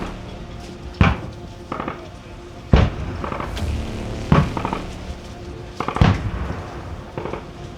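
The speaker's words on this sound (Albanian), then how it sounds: "Siç edhe mund të vrehet shpërtimin e pjesën tonë ballore, e cila është duke u krijuar nga sistemi antitank 66 mm." Military anti-tank field exercise with a 66 mm anti-tank weapon system: four sharp, booming blasts at regular intervals, each followed by a shorter echoing crack, over a steady background rumble outdoors.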